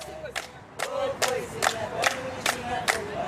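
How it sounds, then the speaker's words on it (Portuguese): Fans gather outside the Botafogo headquarters before a funeral wake and chant in unison: a crowd of voices rises in a regular, rhythmic pulse, with repeated loud bursts about every half second. "fãs já esperavam do lado de fora em tom de cantoria"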